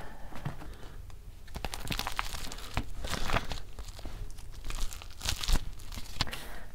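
Sheets of paper rustle and crinkle as someone searches through documents by hand, irregular crisp bursts and rattles close to the mic, with a few quieter pauses in between.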